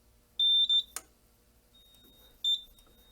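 A smoke detector on a conventional or addressable fire alarm system sounds two short, piercing electronic beeps close together, then a lone beep about two seconds later, with a sharp click between them in a quiet room.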